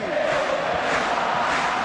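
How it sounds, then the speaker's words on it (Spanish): A large stadium crowd roars and cheers continuously at the end of a match, a dense wash of voices and applause filling the space. "Aplaudiendo al público"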